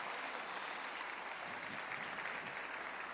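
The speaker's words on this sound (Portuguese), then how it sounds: "Se é para Jesus essas palmas, pode melhorar" A church congregation at Bola de Neve in Guarulhos applauds, a broad, even wash of many hands clapping, steady and somewhat distant throughout.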